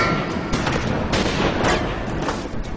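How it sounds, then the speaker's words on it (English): Gunfire in a film trailer: dense, continuous bursts of shots, loud and close, with repeated sharp volleys over a sustained roar and no voices. "Somebody's shooting at us."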